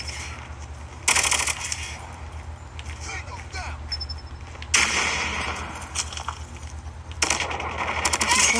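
Gunfire in Call of Duty Mobile, short loud bursts of shots coming roughly every few seconds over a steady low game hum, with a player talking throughout.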